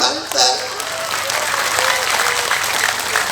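Large crowd at a religious gathering bursts into loud, dense applause that carries on steadily, with scattered voices and cheers mixed into the clapping.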